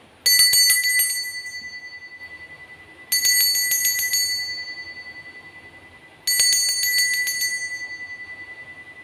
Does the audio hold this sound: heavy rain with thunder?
no